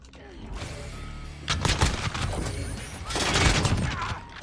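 Shotgun blasts from a video game boom in a quick cluster of heavy, close reports, loud and punchy over a continuous busy game soundscape.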